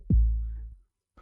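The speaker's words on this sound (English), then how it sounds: "Let's start with creating a kick drum." A single deep kick drum synthesized on the Waves Flow Motion FM synth, with a quick downward pitch sweep, booming and decaying over about half a second, then silence.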